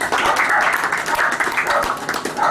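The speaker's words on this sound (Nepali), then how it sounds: "सबैले एकचोटि ताली बजाइदिन" Wedding guests applaud together in a brief burst of many hands clapping close by, with a murmur of voices running under it.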